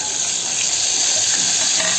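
Mustard seeds, cumin, onion, chilli, garlic and curry leaves frying in hot oil in a pan, a steady bright close sizzle with constant hiss and no talk.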